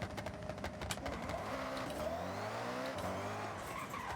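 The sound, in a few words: Koenigsegg One:1 car launching into a wheelie, from a video game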